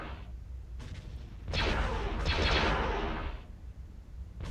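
Starships blasting guns in a Star Wars strategy video game, several bursts of heavy booming fire, with two loud, drawn-out salvos in the middle and quieter shots at the start and end.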